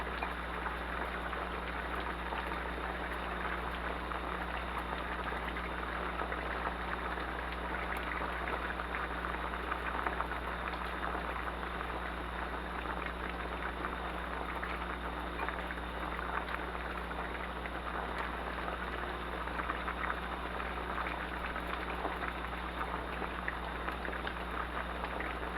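A pot of codfish stew boiling, giving a steady, even bubbling and hissing that stays constant throughout with no talking.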